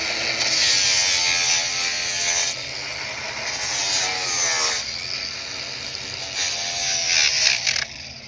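A power sander works over cured epoxy, buzzing loud and close in long passes. The grinding tone rises and falls as the tool moves, with brief pauses between strokes.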